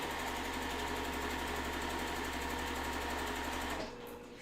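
A sewing machine stitches along the drawn diagonal of a quilt block in one fast, steady, close-up whirr that cuts off abruptly near the end.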